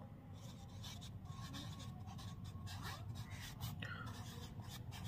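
A pen or stylus scratches numbers onto a vashikaran yantra, soft faint rubbing strokes under a low hum and a voice speaking nearby.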